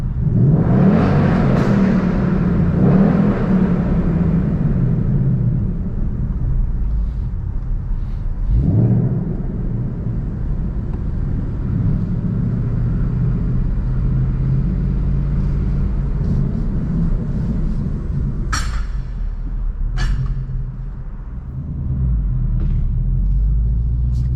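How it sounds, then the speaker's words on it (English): A 2019 Ford Mustang Bullitt's exhaust rumbles deeply and steadily at close range, with a rev near the start and occasional brief pops over the low drone. "So you guys are hearing that exhaust and it just sounds absolutely incredible."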